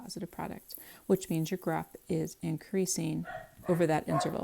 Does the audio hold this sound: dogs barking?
yes